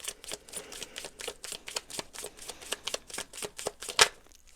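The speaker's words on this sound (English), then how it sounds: "One last shuffle here." Tarot cards riffle and slap together in a quick, steady run of crisp shuffling bursts, close and fairly soft, ending with one sharper snap as the deck settles.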